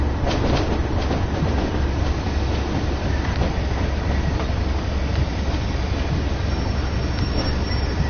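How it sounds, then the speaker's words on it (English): A train rolls on rails in the Train Sim World 2020 game, a loud, continuous rumble with rhythmic wheel clatter and faint squeal, steady throughout with no talking. "Train takes a little bit to get going again once you stop."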